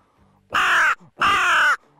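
A man gives two loud, drawn-out crow caws with his own voice, a vocal imitation of a crow call, each about half a second long and separated by a short pause.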